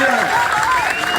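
A crowd claps at a political rally for Harish Rawat during an UPNL strike, a dense steady burst of applause with voices shouting and talking over it.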